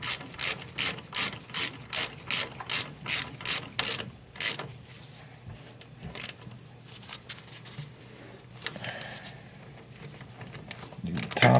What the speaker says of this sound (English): tighten up the caliper bolts